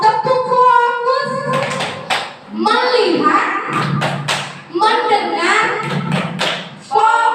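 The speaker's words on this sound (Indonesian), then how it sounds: "Sebelum itu kita mau tepuk fokus" A classroom of children doing the tepuk fokus rhythmic focus clap, with patterned bursts of claps and thumps mixed with a teacher's voice and children chanting along.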